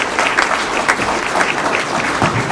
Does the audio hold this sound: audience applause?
yes